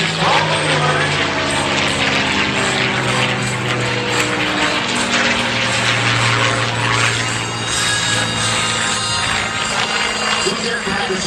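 A North American P-51 Mustang named Moonbeam McSwine rolling in flight at a Davenport, Iowa air show, a loud continuous propeller-engine roar with slowly shifting pitch and faint talk mixed in.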